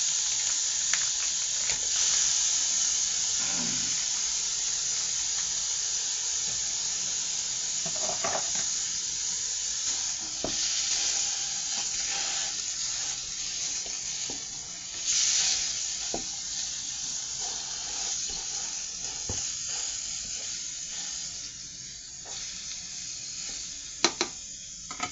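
Ground beef fries with garlic and onions in a pan, a steady hissing sizzle throughout with occasional soft crackles and a couple of sharp pops near the end, no voices.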